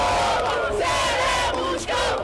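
A dense crowd of Botafogo football supporters sings and shouts together in a loud, sustained chant that fills the space without pause, with no single voice standing out.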